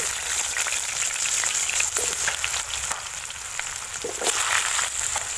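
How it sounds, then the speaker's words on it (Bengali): Potatoes frying in hot white oil, a continuous crackling sizzle with scattered pops and occasional stirring scrapes, close and fairly quiet. "তেলটা গরম হয়ে গেছে এবার আলুগুলোকে কষে নেব"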